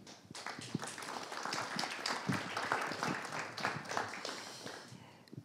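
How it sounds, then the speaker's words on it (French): An audience at a French conference on the 2024 Games applauds a speaker, with scattered, fairly quiet clapping that swells slightly and continues steadily for several seconds. "Très bien, merci beaucoup, on peut l'applaudir."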